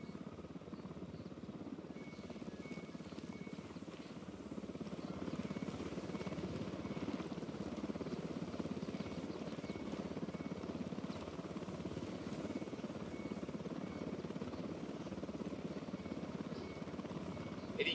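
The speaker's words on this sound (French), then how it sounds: "Hélico de l'Unidad en approche, planquez-vous." A steady, droning helicopter rotor hum from an enemy Unidad chopper approaching in the Ghost Recon Wildlands video game, holding at a constant moderate level throughout with no voices over it.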